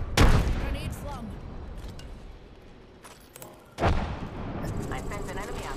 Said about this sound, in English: Grenade slung.